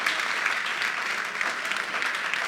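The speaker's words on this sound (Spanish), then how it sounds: "Dale un aplauso al Señor por esto." A church congregation claps steadily and loudly for a few seconds during a Sunday service, a dense, continuous wash of applause with no pauses.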